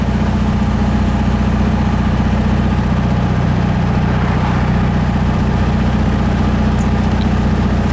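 A 1967 Volkswagen ragtop engine runs at a steady idle, a loud, close, even low rumble with constant throb and no breaks.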